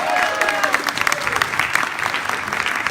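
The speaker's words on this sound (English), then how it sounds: "Big round of applause to Assemblymember David Chu" Steady crowd applause at a rally, dense clapping throughout, fairly close, with a few faint voices mixed in.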